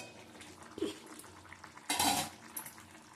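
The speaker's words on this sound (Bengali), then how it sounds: "ঢাকা দিয়ে দেবো এবার।" A lid clatters onto a cooking pot of papaya and potato curry, a soft metallic knock followed by a louder clanking rattle, close by with no talk.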